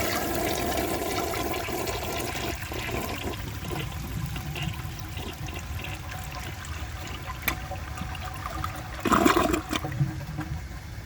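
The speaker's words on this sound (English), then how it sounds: "I will see if it can take the rest of that dirt in another flush" A 1982 Crane Dalton toilet flushes with a rushing swirl of water that fades into trickling refill, then a brief louder gurgle near the end, heard close up with no talking.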